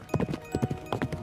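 A horse's hooves clip-clop in a quick, close run of hoofbeats, brief and fairly loud, with no voices.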